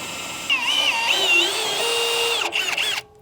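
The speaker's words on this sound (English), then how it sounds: "we're gonna drill through that to attach." A power drill whines loudly for about two and a half seconds, pitch wavering as it bites through the metal pinch weld of a Mercedes Sprinter van, then winds down and stops.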